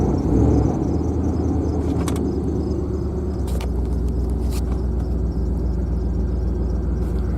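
A 1998 Jeep Grand Cherokee that has been in a crash and is low on gas runs with a steady, close engine rumble and faint whir, holding even throughout with no talking.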